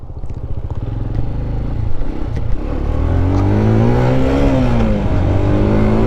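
A Benelli Leoncino 125 cc motorcycle engine under way on the road, loud and close, with a steady drone and a harmonic whine that rises and falls as the rider revs and changes speed. No one speaks.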